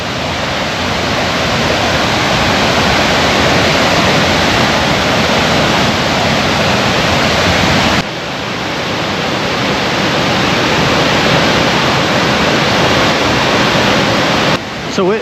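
River water rushes steadily over a weir, a loud, dense, unbroken roar of churning flow heard up close, with a brief dip midway and no voices.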